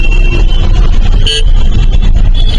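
Dense road traffic jam in Chandigarh, a loud steady rumble of idling cars, trucks and buses close by, with a short horn toot standing out in the middle.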